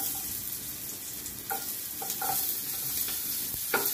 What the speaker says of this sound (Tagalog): Isahin na po natin ang bawang.